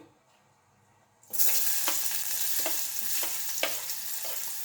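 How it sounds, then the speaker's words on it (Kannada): Chopped onions hit hot oil in a pan for rasam and sizzle loudly right away, a steady close frying hiss with a few stirring scrapes and no speech. "ಇದಕ್ಕೆ ನಾವು ಕಟ್ ಮಾಡಿ ಇಟ್ಕೊಂಡಿರುವಂಥ ಈರುಳ್ಳಿನ ಹಾಕ್ತಾ ಇದ್ದೇನೆ."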